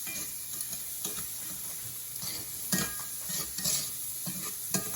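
Shrimp stirred around a hot pan for shrimp and grits, a steady close sizzle broken by several scraping clatters of utensil against pan, with no voices.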